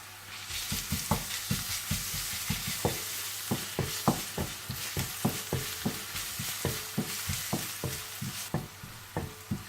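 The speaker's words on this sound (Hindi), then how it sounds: "आप इसमें अदरक लहसुन डालकर भून लें थोड़ा सा" Ginger and garlic fry with onions in a pan under a constant sizzle, punctuated by regular sharp knocks of a spoon stirring against the pan.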